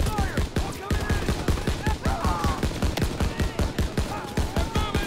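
Steady, rapid machine-gun fire from a Call of Duty WW2 battle, loud and rhythmic throughout, with shouted voices partly audible under the shots.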